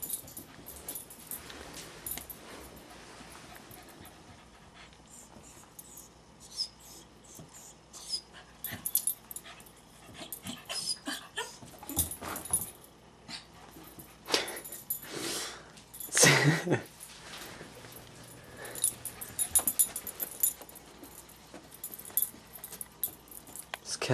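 A dog whimpers and wheezes excitedly on meeting a cat, with close breathy whines and snuffles in irregular bursts, plus occasional jangling and faint voices.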